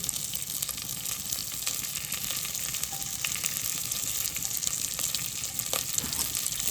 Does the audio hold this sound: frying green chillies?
yes